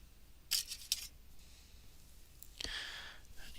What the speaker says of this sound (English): I need to stop using those nice scissors for all this rubber and foam.